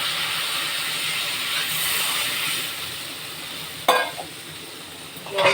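Water goes into a hot pan of fish curry with cauliflower and potato, and a steady, fairly loud steamy sizzle hisses throughout, broken by a sharp metallic clink near the end and another just before it stops.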